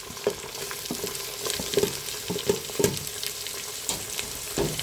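Big onion pieces are stirred and fried in a pan for arisi paruppu sadam, giving a low sizzle under repeated knocking, scraping spoon strokes at an uneven rhythm, close and moderately loud.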